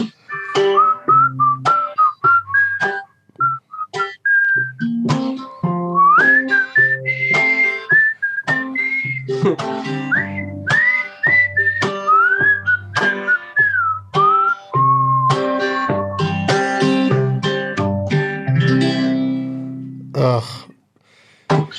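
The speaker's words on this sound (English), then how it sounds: "does a whistling solo right here" A solo whistled melody, clear and close, with sliding notes and short phrases over a soft instrumental backing.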